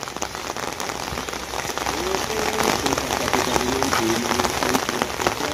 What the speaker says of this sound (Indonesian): Kita sambil hujan-hujanan, teman-teman ya.